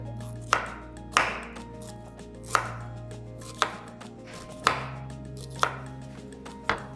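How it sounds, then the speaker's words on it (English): Fresh ginger is chopped with a knife on a board, seven sharp, evenly spaced strikes ringing out close and clear over a low steady hum. "Take your fresh ginger and cut."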